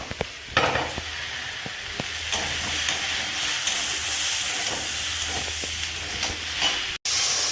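Water poured into a hot pan of fried vegetables, egg and Maggi noodles sets off a loud, steady hissing sizzle with scattered stirring clicks, then cuts briefly before the sizzle resumes.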